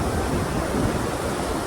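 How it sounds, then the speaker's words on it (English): A large waterfall in New York roaring as a steady, broadband rush of falling water, continuous and fairly loud with no voices over it. "See the waterfall."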